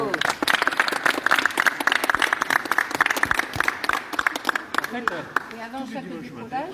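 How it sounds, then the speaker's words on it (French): Brief rounds of clapping from a small group at a reserve parachute folding training session, irregular claps over a few seconds that fade as a voice begins talking near the end. "Et on peut l'applaudir quand même"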